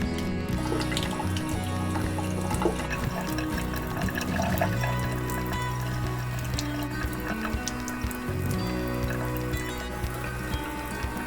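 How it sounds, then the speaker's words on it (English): Steady running tap water splashing and trickling into a sink while boiled eggs are peeled beneath it, with small shell clicks and handling noises, fairly quiet and without talk. "I like to peel the eggs under some running water to make it go a little easier"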